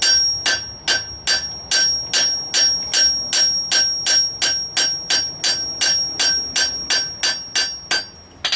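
A hammer strikes a metal leaf scroll on the round edge of an anvil in a steady, even rhythm of about twenty bright ringing blows, each with a short metallic tone.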